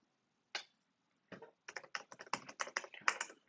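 Computer keyboard keys clack as code is typed, a lone tap then quick irregular bursts of keystrokes, close and crisp in a quiet room.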